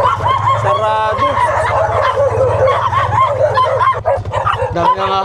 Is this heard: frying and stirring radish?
no